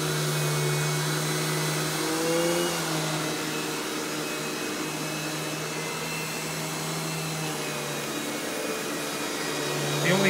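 A Royal Classic Power Team (Power Tank) 4650 canister vacuum runs steadily throughout with a loud, constant motor whine and airflow roar, its pitch dipping slightly mid-way, with no talking.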